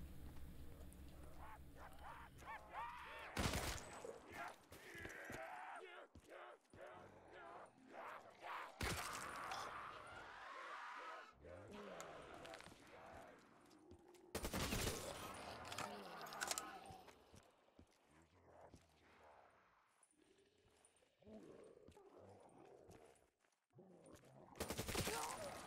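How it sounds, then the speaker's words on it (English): Gunfire against zombies on the Tunisia custom zombies map in Call of Duty, with several loud bursts of rapid automatic fire spaced across a dark stretch of quieter game sounds and movement. "Time to riddle them with bullets."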